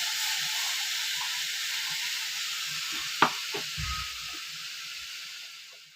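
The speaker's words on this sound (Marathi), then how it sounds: "आणि लगेच मी त्याच्यात तळून टाकते" Ground spice paste (vatap) frying in hot oil for a Maharashtrian katachi amti, a steady close sizzle and hiss, with a sharp clink and brief stirring knocks partway through.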